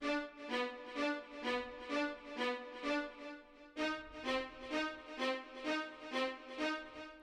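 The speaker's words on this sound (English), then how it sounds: "The next important thing to make this song are the cello hits" Short staccato cello hits from the ST Fast Strings string section in a moombahton EDM remix, struck in a steady pulsing rhythm with a brief break midway, loud and upfront with no voices.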